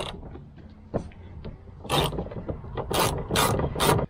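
A ratchet wrench with a 10 mm socket turns a bolt inside a Dodge RAM door during a front speaker upgrade, giving a few quick clicking bursts that build into several louder, sharper ratcheting runs near the end.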